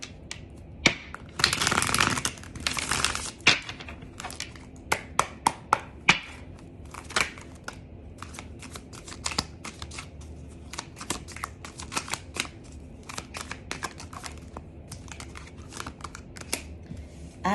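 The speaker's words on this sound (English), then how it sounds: "So I'm going to shuffle one more time." Tarot cards are shuffled by hand in a long run of crisp riffles and sharp snaps, a dense burst early on, then irregular quick flicks and taps close to the microphone with no talking.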